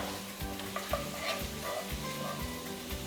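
Meat for karela gosht fries in a pan, with a continuous sizzle broken by several scraping stirs of a spoon, close and fairly loud.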